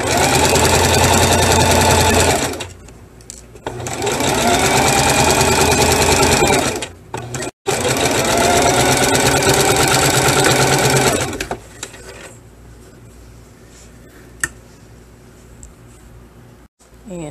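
A sewing machine stitches the shoulder seams of a New Look 6476 duster in three loud, rapid runs of chattering needle strokes, with short pauses between them, then goes quiet apart from a few light handling clicks.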